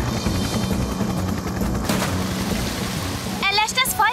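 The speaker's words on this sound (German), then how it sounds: "Da kommt ein Hubschrauber angeflogen." A cartoon rescue helicopter flies in during a children's firefighter show, a continuous rumbling rotor chop that runs steadily throughout, loud and close, with a bright tonal effect entering near the end.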